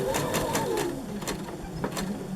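A sewing machine stitches a quilt seam with a steady rapid needle clatter, close and loud, running continuously with slight speed changes and no talking.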